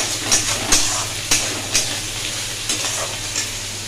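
Masala paste of ginger, garlic and onion frying in a pan for a fish curry: a steady close sizzle with repeated scraping stirs roughly every half second and no talking.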